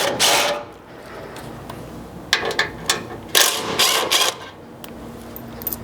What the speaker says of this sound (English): take our Torx and start by removing the 2 front bolts